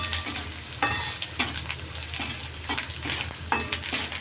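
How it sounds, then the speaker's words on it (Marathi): Garlic sautéing in oil for a fresh green chickpea bhaji, heard as a close sizzle broken by repeated rhythmic scraping strokes of a spatula, about one stir every half second. "लसूण हे चांगला तेलात परतून घ्यायचं आहे."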